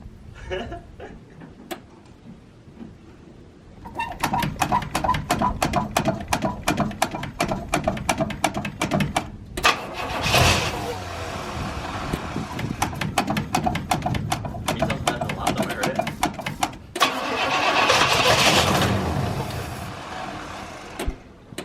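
A Pontiac Catalina engine cranks and catches, then settles into a steady loud running idle with a revving surge near the end; faint clicking at the start.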